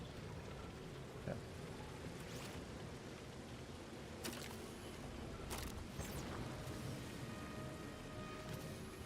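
Rain falling in the Rainbow Six Siege video game, a faint, steady hiss that runs throughout, broken by a few sharp, brief patters and splashes.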